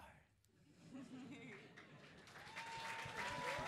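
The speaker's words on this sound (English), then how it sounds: "Give an applause to you." Clapping from an audience swells and grows louder, mixed with a voice speaking over it.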